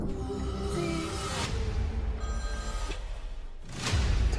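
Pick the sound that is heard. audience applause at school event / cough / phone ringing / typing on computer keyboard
phone ringing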